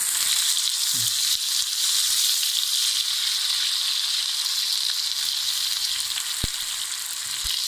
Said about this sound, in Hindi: 2 मीडियम प्याज हमने रफली चॉप कर लिए हैं, ये चले गए इसमें। इसे बस हल्का सा हमने भूनना है